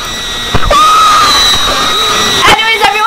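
A loud, sustained scream from a horror escape game about avoiding a nanny, with a rising wavering pitch that runs across most of the moment and is broken by sharp bursts of sound.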